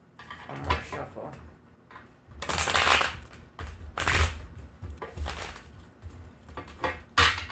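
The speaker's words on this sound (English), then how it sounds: "One more shuffle." Tarot cards are shuffled by hand close up, a few rustling, riffling bursts separated by short pauses, with no talking.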